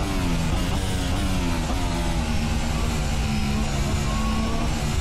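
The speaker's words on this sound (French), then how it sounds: "J'ai l'impression qu'on a déclenché un deuxième moteur quand on met ce DRS." ACFL F1 2015 Formula One car engine in Assetto Corsa, a steady high-pitched racing whine held at high revs with the DRS open, loud and continuous with no speech.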